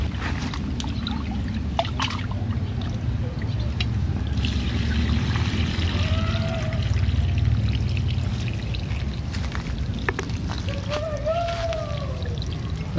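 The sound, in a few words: washing rice with water for nasi liwet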